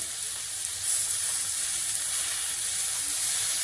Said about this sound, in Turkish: Olduğu yerde 90 derece çeviriyorum bonfilelerimi.